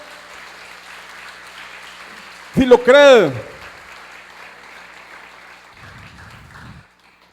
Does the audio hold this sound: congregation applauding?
yes